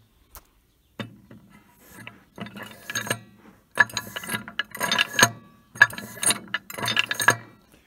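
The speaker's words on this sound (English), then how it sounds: "I will move this back and forth and you can hear that the expander is doing some rattling that it had not ought to be doing" Brake expander on an Allis Chalmers 180 tractor rattling as the brake is worked back and forth, giving repeated bursts of metallic clatter with short pauses between them, close up and with no one talking.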